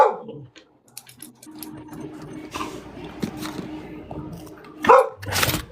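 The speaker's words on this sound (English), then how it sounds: "I don't know why the dog's barking" A dog barks indoors in a few scattered bursts, the loudest near the end, over a low mechanical hum.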